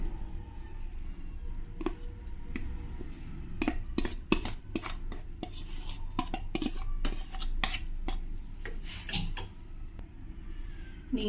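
Mashed moong dal is added to cooked tomato in a pot, bringing scattered metallic clinks and scrapes of a spoon against the vessel over a low steady kitchen background.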